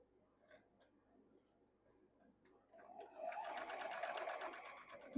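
A sewing machine runs steadily while stitching a quilt block seam, a close, continuous rapid whirring that starts after a few seconds of quiet room tone and carries on to the end.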